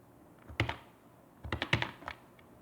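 A few computer keyboard keys are pressed close by in a quiet room, one soft click followed by a short cluster of clacks, as a save shortcut is typed.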